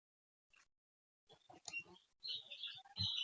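An eagle call from a children's animal sound set, short sharp chirping and whistling bird cries in brief bursts after a near-silent start, fairly faint and with no talking.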